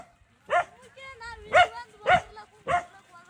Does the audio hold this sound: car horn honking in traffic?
no